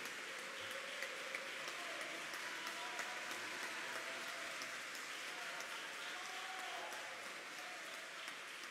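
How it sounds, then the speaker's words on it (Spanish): A crowd applauds steadily after a speech opposing Chile's abortion law, a continuous rain-like patter of many hands at moderate distance, with some indistinct voices in the background. "Aquí hay una verdadera guerra de aplausos"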